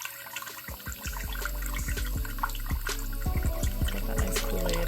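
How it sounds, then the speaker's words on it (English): Blue coolant poured into the radiator expansion tank of a Nissan S12 with an SR20DET engine, a gurgling, splashing flow that grows fuller and steadier, close by and alone. "The next thing for us to do, now that the radiator's hooked up to the expansion tank, is fill it."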